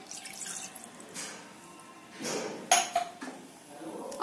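Water poured from a container into a pan on a lit gas stove, a short splashing pour with a few metallic clinks, heard close and moderately loud.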